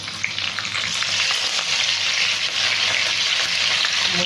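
Dried chilies, garlic and curry leaves fry in hot oil with a loud, steady, close sizzle and light stirring, and no voices.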